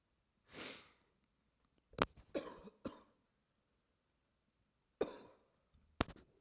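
A few rough coughs held back from the microphone, muffled and spaced apart in short bursts with quiet gaps between them, with a breathy sniff or throat noise mixed in.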